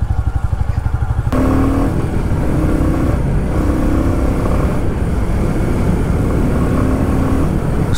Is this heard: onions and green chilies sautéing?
no